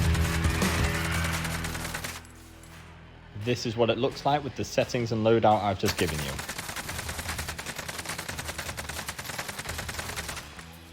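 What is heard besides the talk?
AK-47 gunfire in the video game Call of Duty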